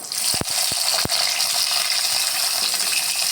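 Chopped onion dropped into hot oil after a flower-spice tempering for Tamil dalcha kuzhambu; a couple of sharp drops at the start give way to a steady, loud, close sizzle that fills the whole moment.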